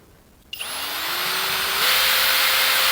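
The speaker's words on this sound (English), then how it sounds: "Just drill them out like that." A power drill bores out rivets on the rear cover of a Chinese mini excavator, starting abruptly with a sharp bite and then a steady, rising whine that holds loud and close, shifting pitch partway through.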